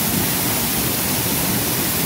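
A small waterfall on a Tennessee property, swollen after 22 hours of rain, roars as a steady, broadband rushing of water close by with no break or voices.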